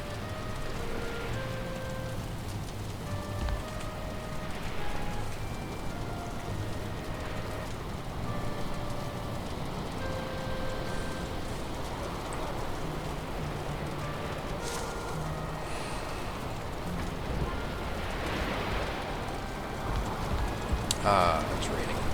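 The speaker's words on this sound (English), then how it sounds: "Ah, it's raining." Steady rain in the survival game Valheim, a constant soft hiss of drops spread across the whole stretch, with faint in-game tones and scattered clicks over it and no one talking.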